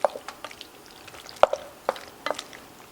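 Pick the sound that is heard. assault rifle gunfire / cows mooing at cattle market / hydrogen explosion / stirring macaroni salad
stirring macaroni salad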